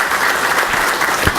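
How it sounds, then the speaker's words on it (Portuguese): Steady applause from an audience at a formal special session, a dense, continuous wash of clapping with no voices over it. "Eu gostaria de uma salva de palmas para essa competente"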